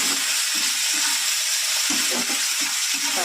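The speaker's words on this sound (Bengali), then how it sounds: "পেঁয়াজটা ভেজে নেব লাল লাল করে।" Onions frying in hot oil until reddish golden, with a steady loud sizzle running throughout and soft stirring knocks, close up, with no talking.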